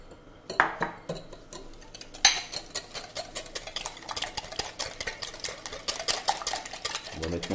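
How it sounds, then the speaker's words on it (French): A whisk beats eggs with coconut blossom sugar in a bowl, giving rapid, rhythmic metallic clicks and scrapes, fairly quiet and close, with a few louder knocks early on. "On va maintenant fouetter les œufs avec le sucre de fleur de coco."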